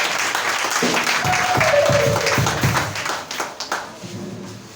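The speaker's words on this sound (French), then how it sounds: "On acclame le Seigneur." A church congregation applauds the Lord, a dense, continuous crowd clapping mixed with voices and a rising sung or shouted note, fairly close.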